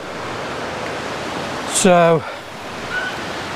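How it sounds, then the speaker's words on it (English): A waterfall by a lake gives a constant broad rushing roar heard from a distance, with a brief spoken word over it partway through. "I thought I could hear waterfalls."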